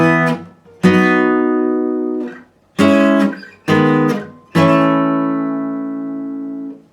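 Electric or acoustic guitar chords from the verse of a song, five separate strummed or arpeggiated phrases each ringing out and decaying, close and clear with no voice.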